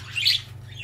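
A budgerigar, a rainbow-coloured male budgie, gives one bright, close chirp over a steady low electrical hum, followed by a fainter trailing call.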